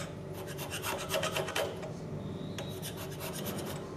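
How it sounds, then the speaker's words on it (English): Hand scraping of a 3000 mm metal linear guide with a very sharp cutter, a steady rasping scrape repeated in short close strokes throughout, with no talk. "At this final stage of scraping, I work with a very sharp cutter, the force and thickness of the chips being small."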